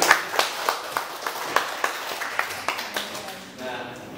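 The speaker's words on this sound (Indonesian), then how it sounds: "Kita kasih tepuk tangan" Clapping from participants at a school library management workshop, a modest group giving a steady run of distinct claps that fades out after about three and a half seconds.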